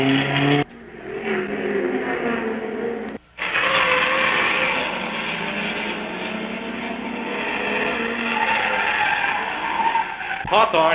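A sports car at the 1958 12 Hours of Sebring endurance race roars past with a loud, steady engine drone and brief cuts, heard under a narrator's voice.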